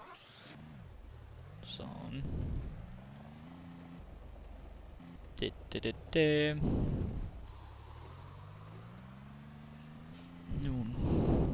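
A car driving in the video game Boiling Point, engine pitch climbing and dropping through gear changes at moderate volume, with a few sharper mechanical bursts and someone speaking briefly.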